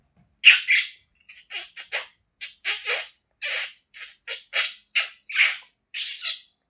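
A voice imitates birds chirping, giving a rapid series of short, high squeaky calls in irregular bursts, close and alone.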